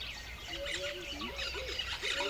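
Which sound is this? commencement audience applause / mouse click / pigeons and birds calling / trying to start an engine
pigeons and birds calling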